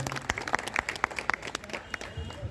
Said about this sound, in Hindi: तालियां जोर से एक बार बजाई जाएं